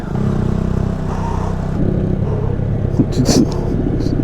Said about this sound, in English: we'll pick it up in about 3 seconds with a bump start from my tow vehicle